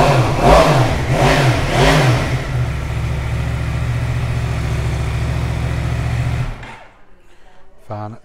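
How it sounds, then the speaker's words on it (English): A 2020 Yamaha MT10 cross-plane engine fires up with loud, close revs that swell and fall, then settles into a deep, steady idle before cutting off, with a brief sharp blip at the end. "let's give this bad boy a start up. Cross-plane engine, sounds fantastic."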